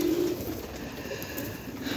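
Ferozpuri pigeon cooing softly and steadily in a loft, low throaty coos over a continuous background hiss, with no talking.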